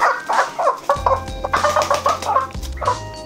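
Chickens of an exotic breed with hair-like feathers cluck in quick, busy bursts close by, while a low hum runs underneath.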